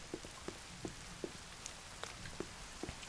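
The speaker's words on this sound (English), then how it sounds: "It's raining." Rain falling in the survival horror video game The Forest, a soft, even wash of rain noise with scattered light drip ticks, faint and without talk.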